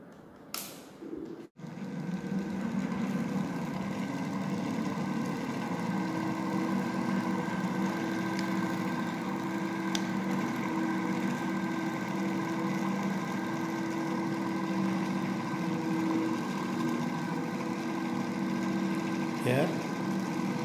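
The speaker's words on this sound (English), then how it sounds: "Now I am going to start the motor." A small energy-efficient brushless DC motor with dual stator poles, on a 16-volt supply, starts with a brief click and then runs alone with a steady, even hum and faint vibration at close range.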